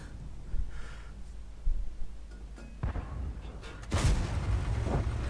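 Tank cannon fire in the World of Tanks game, a few sharp booming shots at about 0.6, 1.7 and 2.9 seconds, then a heavier blast near 4 seconds with rumbling battle noise after it, no talk over it.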